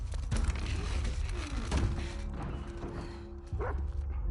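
A dog barks during a tense stealth scene in the video game The Last of Us Part II. A few sharp, fairly faint barks rise over busy game ambience.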